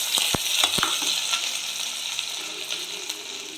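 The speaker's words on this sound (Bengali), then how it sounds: "দেখো পেঁয়াজগুলো ভেজে নেব।" Onions frying in a pan for a brinjal bharta, giving a bright, steady, close sizzle with a couple of sharp clicks near the start and no speech.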